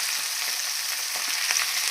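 Small marinated kavalai fish frying on a dosa tawa, a dense, even hiss of hot oil up close with a couple of faint crackles and no other sounds.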